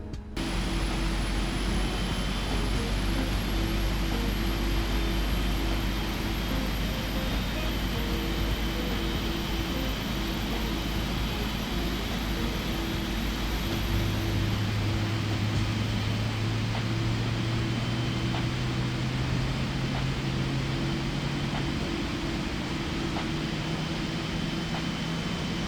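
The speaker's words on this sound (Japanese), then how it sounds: "続いてレフトエンジンをスタートさせてサウンドを聞いてみます。" Left engine of a PMDG 777-300ER starting up in Microsoft Flight Simulator, a steady broadband whoosh with a low hum that climbs gradually in pitch as the engine spools, continuous and alone.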